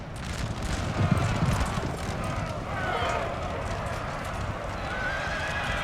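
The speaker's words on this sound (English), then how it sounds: "Prussian artillery here being caught out. It's horse artillery." Horse-drawn artillery moves across a battlefield in the Napoleon: Total War video game. A dense, continuous clatter of hooves mixes with neighing and steady battle noise, moderately loud throughout.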